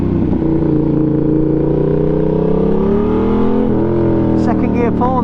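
A Yamaha MT-07 motorcycle pulling hard in second gear without traction control, its engine a loud, steady droning roar climbing slowly in pitch, with a brief shift in tone near the end.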